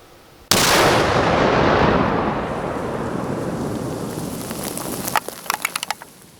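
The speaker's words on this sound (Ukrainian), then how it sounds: "де і підірвано за допомогою накладного заряду вибухівки" A sudden, massive blast as an explosive charge destroys munitions at a disposal range, its deep rumble rolling and slowly fading for seconds, followed by a scatter of sharp crackles and pops.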